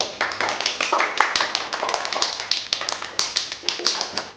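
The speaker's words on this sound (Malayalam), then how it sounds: "എല്ലാവരും ഒന്ന് കൈയടിക്കും." A group of people clap their hands in applause, giving a quick, irregular stream of sharp, close claps with a few louder standout hits and faint voices underneath.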